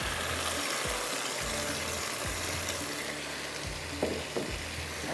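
Vegetables are stir-fried and mixed in a pan for chicken spaghetti, giving a continuous moderate sizzle broken by several dull knocks and scrapes from the stirring spoon.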